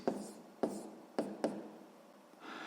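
Pen or pencil writes out the answer to a sixth-grade math equation, four quick scratchy strokes close up with short pauses between, followed by a longer softer scribble, quiet and without talking.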